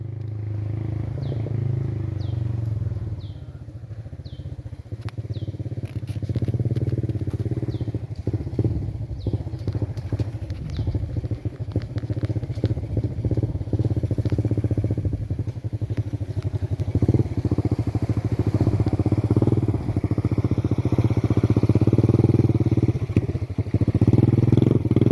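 A motorcycle engine drones steadily nearby, rising and falling as it rides past on a rural road, with scattered clatter and thumps, faint birdsong and occasional distant voices.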